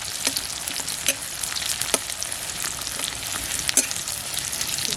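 Steady, close sizzling of a spice paste frying in hot oil until reddish, with a few sharp scraping clicks from stirring scattered throughout.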